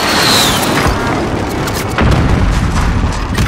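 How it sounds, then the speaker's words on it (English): Airstrike explosions in Call of Duty Warzone produce a dense, continuous roar of heavy booms and rumbling blasts that stays loud throughout, with a fresh impact surge about halfway through. "Striker 3-1, good copy. Strike inbound."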